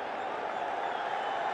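A cricket crowd at a night-time Pakistan vs New Zealand T20 match cheers and applauds in a steady, dense wash of noise that holds at an even level the whole time.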